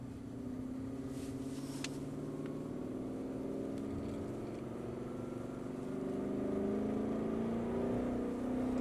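A car's engine hums low and steady, then climbs gradually in pitch as it accelerates, heard from inside the vehicle at moderate level with no talking.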